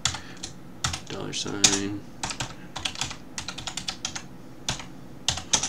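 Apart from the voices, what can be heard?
typing on a computer keyboard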